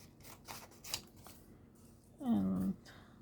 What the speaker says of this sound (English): what I'm going to do is I'll just cut this down